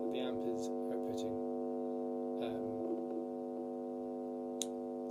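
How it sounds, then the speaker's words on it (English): Electric guitar feedback from standing close to the amplifier, a sustained stack of steady harmonic tones ringing continuously throughout, with faint handling noises on top. "Get close to the amp, it starts to feedback."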